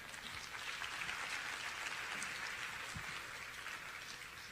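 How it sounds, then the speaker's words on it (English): A hall audience at a middle school magnet program meeting gives a steady round of applause after a presentation, a dense even wash of clapping held for the whole stretch at moderate level. "that was a wonderful round of applause"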